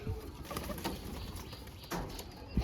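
Domestic pigeons coo softly outdoors after their release from the loft, low repeated calls with a few brief flutters, fairly near and steady, with no one talking.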